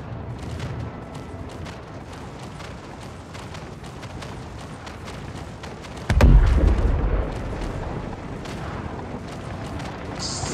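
Explosion in the Star Citizen video game during a bunker assault, a single heavy boom midway through a busy background of scattered gunfire-like clatter, followed by a lingering rumble.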